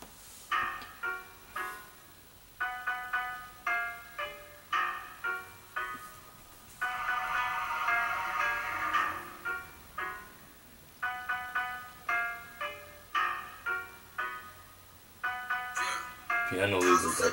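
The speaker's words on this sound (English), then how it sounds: "Piano leads it up." Piano intro of a song, bright repeated chords in an even pulsing rhythm at moderate volume, with a denser sustained passage in the middle and voices talking faintly in the background.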